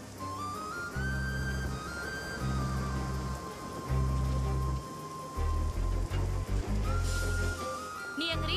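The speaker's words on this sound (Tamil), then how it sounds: "இங்க பயங்கரமா மழை பெய்யுது" Heavy rain falls as a constant hiss under a Tamil-dubbed film scene, with low musical tones pulsing over it and a voice heard at points.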